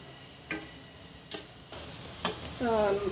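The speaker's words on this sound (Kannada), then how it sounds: "ಸ್ವಲ್ಪ ಖಾರ ವಾಸನೆ ಹೋಗೋದು ಅಷ್ಟು ಫ್ರೈ ಮಾಡ್ಕೊಳ್ಳೋಣ" Spice powders frying in oil in a pan for an Andhra-style soya chunks gravy, a low sizzle punctuated by three or four sharp clacks of a spoon striking the pan, then a brief louder hiss near the end.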